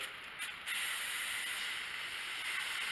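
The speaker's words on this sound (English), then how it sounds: "this brass fitting that we took off the stem, that we had a hard time cleaning, our pipe thread wouldn't go through it. We're going to spray that good." Cleaner sprays through a small brass fitting taken off a Craftsman snowblower's carburetor stem, a steady close hiss that starts with a couple of short bursts and then runs continuously.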